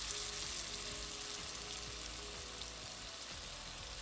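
Scalded cornbread batter sizzles in about a quarter inch of hot oil in a skillet, a steady, close crackling fry with small pops running unbroken throughout.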